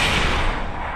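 C4 charge detonating in the Melon Playground sandbox game, a loud, dense blast burst that fills the whole second with roaring broadband rumble and slowly eases off, with no talk over it.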